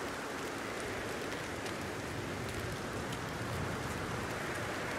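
Rain in the video game Red Dead Redemption 2 falls as a steady, even hiss of dense drops that continues unbroken, with no talking over it.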